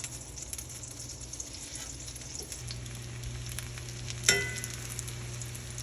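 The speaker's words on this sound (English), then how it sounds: "I'm going to pan fry the plantains with 2 tablespoons of butter and about 2 tablespoons of olive oil." Plantains pan frying in butter and olive oil give a steady, close sizzle and crackle throughout, with one sharper pop near the end.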